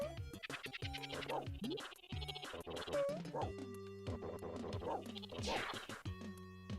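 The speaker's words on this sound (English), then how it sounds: "I got a jump button. So I can jump and bark." Dog barks from a retro video game, repeated short yips over game music and sound effects, with scratchy hits and whimpers mixed in.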